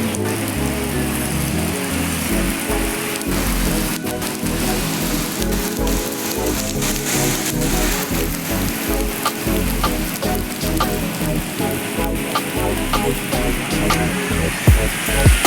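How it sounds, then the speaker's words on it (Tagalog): Dense, steady downpour of heavy rain pattering hard on surfaces in Hong Kong, continuous and loud with scattered sharper drips throughout. "Maulan ang Hong Kong ngayon. Sobrang ulan."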